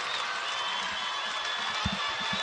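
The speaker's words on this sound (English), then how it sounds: "That brings the crowd to their feet." A college basketball crowd at an Appalachian State game at ULM rises in continuous applause and cheering, a steady roar of clapping with a few low thumps underneath.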